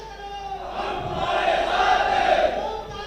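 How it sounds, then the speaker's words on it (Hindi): An audience at a public event in Datia welcomes an arriving guest, the crowd's noise swelling into a broad, sustained roar of clapping and cheering that peaks mid-clip before easing off. "हम सब लोग तालियां बजाकर उनका स्वागत,"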